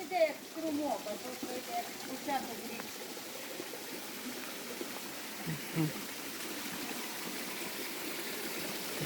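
A small mountain stream flows near a hotel in the village of Vyshka, making a steady, moderate gurgling rush while people talk over it.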